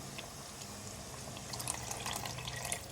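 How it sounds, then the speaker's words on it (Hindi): A little water is poured into chicken korma in a pot, a soft trickling and splashing that grows slightly busier in the second half, close and faint. "थोड़ा सा पानी डालूँगी इसमें।"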